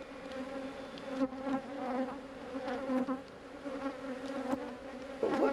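A dense, steady buzz of many bees fills the air, humming close by with gentle swells in loudness and no voices.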